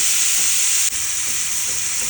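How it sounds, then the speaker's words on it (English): Shrimp sizzle and hiss steadily in a hot skillet, a bright continuous stir-frying crackle with a brief stirring scrape partway through. "it's almost like I'm stir frying it"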